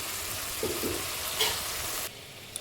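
Spice paste fries in oil in a pan and is stirred, making an even sizzle with soft scraping strokes before the sound drops away near the end.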